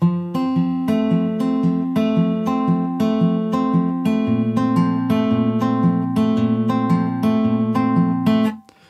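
Close, clear acoustic guitar picks the repeating first chorus line of a song with ringing notes, steady rhythm throughout, ending abruptly.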